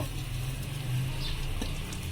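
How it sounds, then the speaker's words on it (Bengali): Vermicelli (semai) frying in ghee in a pan gives a steady, soft, continuous sizzle with a low background hum and no talking. "সেমাইটাকে ভাজার সময় বারবার নাড়াতে হবে যাতে পুড়ে না যায়।"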